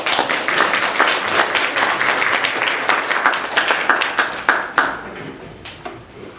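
Clapping from a church seminar audience welcoming a visiting pastor to the front, brisk and lively at first, then thinning and fading away near the end, with no talk over it.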